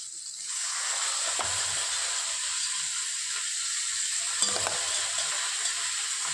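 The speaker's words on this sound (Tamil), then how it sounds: "பச்சை பட்டாணியும் வேக வச்ச பட்டாணியை இதில் கொட்டணும்." Boiled and fresh green peas are stirred in a hot pan with chillies while cooking an egg and pea stir-fry, giving a steady close hiss with a few scraping knocks of the spoon, no talking.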